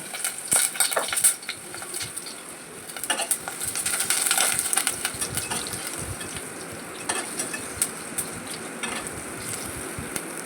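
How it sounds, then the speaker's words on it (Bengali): Mashed pea-lentil chapor fritters, seasoned with salt, turmeric and green chilli, fry in hot oil with a continuous crackling sizzle broken by frequent spatula and pan clinks. "এবার আমি গরম তেলে চাপড় ভেজে নিচ্ছি"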